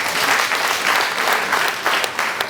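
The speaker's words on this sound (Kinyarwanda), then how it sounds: "nimwihe amashyi" Dense applause from a crowd at a stadium event for African Traditional Medicine Day, steady and loud throughout with no talk.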